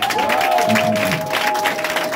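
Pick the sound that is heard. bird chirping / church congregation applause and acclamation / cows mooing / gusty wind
church congregation applause and acclamation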